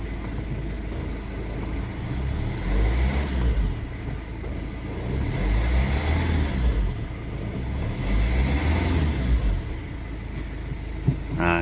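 Rover 75 CDT diesel engine accelerating and revving up through the gears, a steady close rumble rising and easing in repeated surges with no talk.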